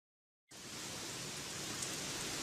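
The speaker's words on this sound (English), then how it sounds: "It's raining cats and dogs again." Rain pours down steadily after a moment of silence, a soft, even hiss of heavy rainfall heard faintly and without any voices.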